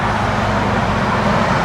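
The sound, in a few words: classic car engine running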